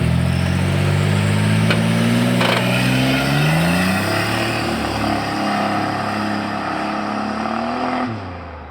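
A turbocharged Chevrolet S10 truck accelerates hard on a test drive, its engine rising loudly in pitch through the gears, with a brief drop near the end.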